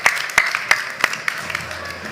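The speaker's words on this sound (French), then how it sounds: "On applaudit, bravo." Festival audience at a cooking masterclass claps for a freshly presented tarte tatin: a handful of sharp, separate claps at a steady pace, fairly close, thinning out toward the end.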